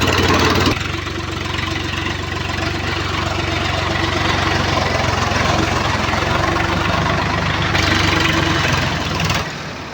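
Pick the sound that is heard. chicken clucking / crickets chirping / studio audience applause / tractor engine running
tractor engine running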